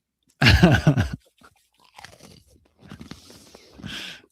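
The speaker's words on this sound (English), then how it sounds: "Little ASMR with your crunching there into the mic." Food crunched close to the microphone: one loud burst of crisp bites, followed by softer, scattered chewing crunches.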